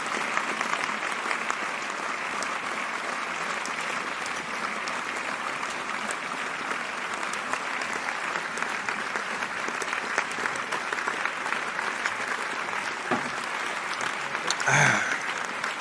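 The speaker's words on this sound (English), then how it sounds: "Cue the applause track." A canned applause sound-effect track plays on a podcast, a long, steady wash of crowd clapping at moderate level with a brief louder knock near the end.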